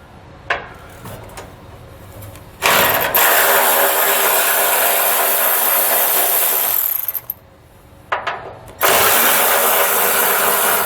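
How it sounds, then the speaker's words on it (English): Ratchet wrench with a 10mm socket backing out heat shield bolts under a truck bed during a gooseneck hitch install, with sustained loud clicking runs broken by short pauses and a few single clicks. "So we'll use a 10mm socket to pull those out."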